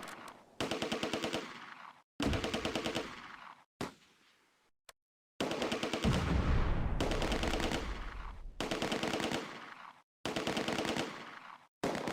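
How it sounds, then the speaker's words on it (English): Bren gun firing in the WWII game Close Combat: A Bridge Too Far, loud rapid bursts of automatic fire separated by short pauses, with a heavier boom partway through. "Corporal Jacob's Bren section targets a Sturmgrenadier squad in the open."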